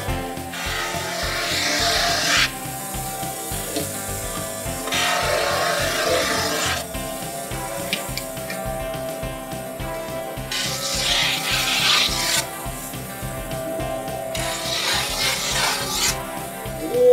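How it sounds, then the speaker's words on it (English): A snowboard's edges are ground with a tool in a steady, loud rasping scrape that pulses in repeated passes, alternating between harsher and softer strokes throughout. "He's gonna take the snowboard and grind the edges."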